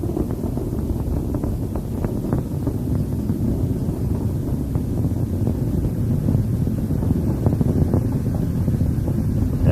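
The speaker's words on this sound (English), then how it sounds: "And all 3 main engines are throttling back up." The Space Shuttle Endeavour's three main engines drive the STS-57 launch ascent as a continuous, heavy low roar with a rough, crackling texture. The roar holds steady and loud throughout, with no voices over it.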